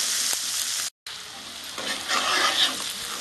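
Onion and capsicum stirred in a hot pan for chilli paneer, a loud close sizzle with scraping stirs, broken by a brief moment of silence before the frying swells again.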